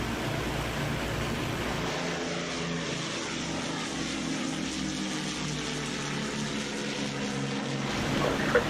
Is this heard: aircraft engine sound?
yes